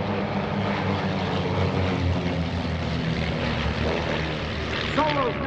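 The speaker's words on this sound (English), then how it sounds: "There's the airplane formation." A large formation of Van's RV propeller airplanes roars overhead at an airshow in a loud, continuous drone that swells slightly, with a faint whistle near the end.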